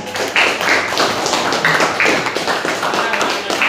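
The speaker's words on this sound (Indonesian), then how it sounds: "Silakan kasih tepuk tangan." Classroom applause in an Islamic history lesson, a quick burst of many hands clapping in a room with students' voices mixed in, steady and fairly loud through the whole stretch.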